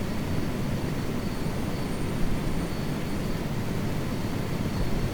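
A helicopter engine in Microsoft Flight Simulator 2024 drones in a steady, dense, continuous roar that fills the whole stretch at an even level. Nobody speaks over it.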